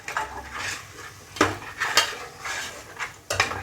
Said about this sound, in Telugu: సో ఇలా గీరుతూ కలుపుతూ ఉండాలన్నమాట